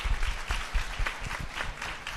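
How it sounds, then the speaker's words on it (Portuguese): Audience applause with dense, continuous clapping from a crowd at a talk event, loud and steady for a couple of seconds with no voices over it. "Palmas novamente."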